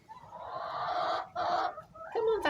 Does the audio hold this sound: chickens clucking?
yes